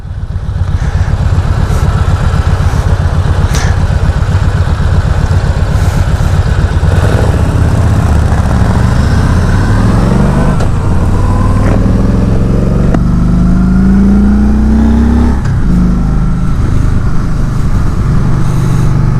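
A 2019 Kawasaki Voyager motorcycle engine idles with a steady low rumble, then revs up in several rising sweeps, loud and close throughout with no talking.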